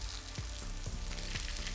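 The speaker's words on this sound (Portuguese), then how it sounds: "Frigideira bem quente, vou colocar umas folhinhas de pak choi." Pak choi leaves fry in a very hot pan with olive oil, giving a faint, steady sizzle with a few soft thumps as they settle.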